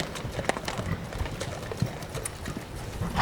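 Horse hooves clip-clop steadily as a horse is ridden during equestrian riding, with a run of close, fairly loud hoof strikes and no clear talk over them.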